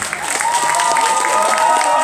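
An audience at an outdoor festival performance claps steadily, a dense patter of applause mixed with some cheering and voices.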